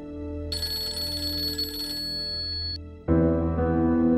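A phone ringtone rings loudly and steadily, a bright melodic tone that changes pitch partway through, with no talking.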